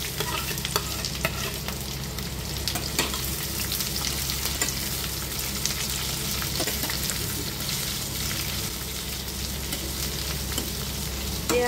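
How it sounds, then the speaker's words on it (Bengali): Thinly sliced onions fry in oil as they are stirred, producing a continuous close sizzle with frequent scraping and stirring strokes and no speech. "পেঁয়াজগুলো হালকা লাল করে ভাজা হয়ে গেছে।"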